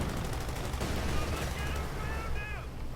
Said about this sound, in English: Puma under heavy fire